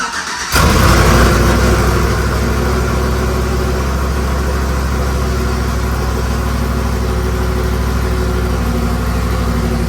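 Cammed Chevrolet Silverado pickup with a full exhaust and Speedy Smooth muffler fires up with a sharp cranking catch, then settles into a loud, deep, lumpy idle that chops steadily and close for nearly ten seconds.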